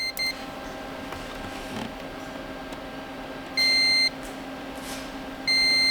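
A multimeter beeps during electrical testing on a 20-year-old VW Phaeton V10: a few short, clear electronic tones, the longest two near the end, over a steady low hum.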